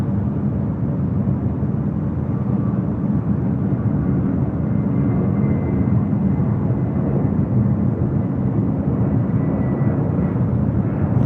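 A steady, broad roar of an airliner taking off from runway 6 right at LAX holds for the full length at constant level, heard from a distance with no talking.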